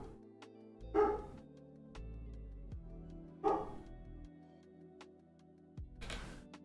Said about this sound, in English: guys can probably hear the dogs barking.